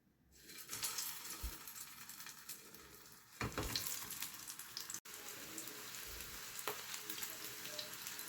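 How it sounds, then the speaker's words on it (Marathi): Chicken shami kebabs shallow frying in oil, a steady close crackling sizzle throughout with a louder burst midway and one brief break. "आता आपल्याला काय करायचं आहे, ह्याला शॅलो फ्राय करून घ्यायचे आहेत"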